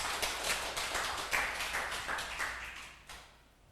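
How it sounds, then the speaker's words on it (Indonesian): A church congregation applauds during a Sunday service, a dense patter of many hands clapping steadily for a few seconds before fading out. "Berikan tepuk tangan bagi Tuhan kita."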